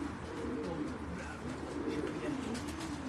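Pigeons coo close by on a rooftop loft, a continuous low burbling that overlaps throughout with no pause.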